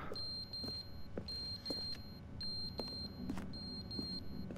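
In The Stanley Parable, a piercing, high-pitched electronic beep like a fire alarm repeats in short regular pulses, loud and insistent over a low rumbling background with scattered clicks.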